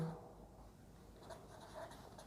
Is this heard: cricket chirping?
no